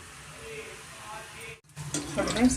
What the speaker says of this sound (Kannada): ಮೀಡಿಯಮ್ ಫ್ಲೇಮಲ್ಲಿ ಚೆನ್ನಾಗಿ ನಾವು ಚಕ್ಲಿ ಕರ್ಕೊಬೇಕಾಗುತ್ತೆ